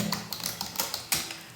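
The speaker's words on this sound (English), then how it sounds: "Now you start typing the text." Rapid tapping of keys on a computer keyboard while text is entered for a drafting exercise, a close, steady run of light clicks with a few sharper strokes.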